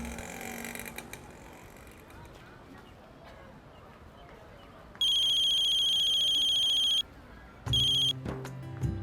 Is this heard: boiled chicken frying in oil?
no